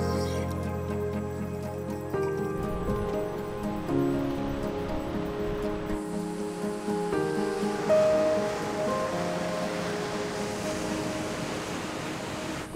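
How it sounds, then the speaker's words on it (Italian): Surf washes steadily onto Playa Espadilla del Sur, a beach inside a nature park, as a continuous broad roar of waves with gentle surges, heard alone with no talk, under a faint musical background. "Questa è la prima spiaggia del parco, si chiama Playa Espadilla del Sur."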